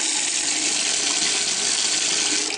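Steady rush of water from a household faucet during a house walkthrough, running continuously at close range with no talk over it.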